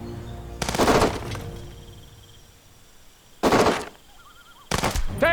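Bursts of automatic gunfire from the tactical video game Jagged Alliance, three loud rattling volleys separated by quieter stretches with a faint electronic chirp between them.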